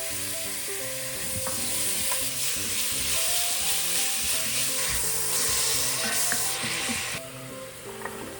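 Beef sizzling in olive oil in a pan, with a steady broadband fry hiss and repeated scrapes and clinks of stirring throughout, up close and fairly loud.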